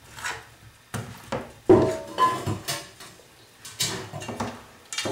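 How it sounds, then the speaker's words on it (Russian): A spoon scrapes and knocks against a dish as a mixture is stirred while preparing ribs and potatoes to bake in foil, giving irregular close clinks and dull taps with short scraping pauses between them. "Все это теперь перемешаю."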